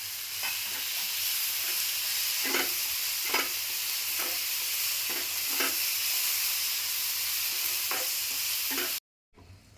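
Misal masala of tomato and coriander roasting in a pan, a steady close sizzle with periodic scraping stirs, cutting off abruptly near the end.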